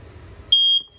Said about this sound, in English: That guy detects it and starts going off just like a smoke detector would.